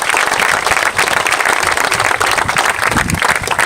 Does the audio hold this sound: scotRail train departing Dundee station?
no